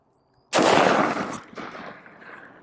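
A single loud 5.56 M193 rifle shot from a 16-inch IWI rifle, fired at close range, with a sharp blast followed by a short ringing echo and a faint clatter afterward.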